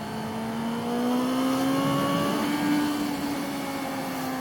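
A loud Honda CB650F motorcycle accelerates away, its engine note climbing steadily in pitch through a gear, heard close and continuous with no talking.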